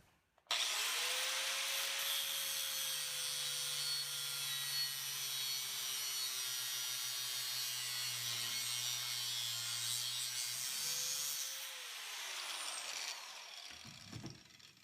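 Metal pieces for a knife bevel jig being cut with a power saw or grinder, a loud sustained whining grind with a tone that dips and rises as the blade bites, running steadily for about twelve seconds before winding down.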